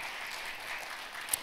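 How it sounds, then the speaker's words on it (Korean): Audience applause fills a hall at the 2018 Jeonbuk International Finance Conference, a brief, even wash of clapping at moderate volume with no talking. "먼저 박수 부탁드립니다"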